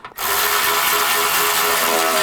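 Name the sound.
power tool tightening radiator mounting bolts on Chrysler 200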